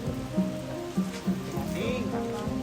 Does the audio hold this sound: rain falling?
yes